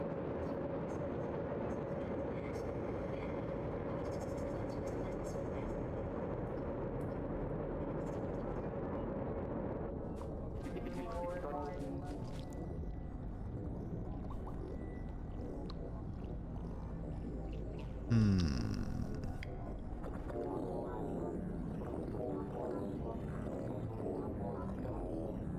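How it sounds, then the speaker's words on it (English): Droning, rumbling robot noises from the video game Rain World, a dense low mechanical hum with shifting tonal groans and a brief sweeping whoosh partway through, steady and loud throughout. "robot noises"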